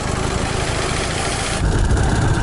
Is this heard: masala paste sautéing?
no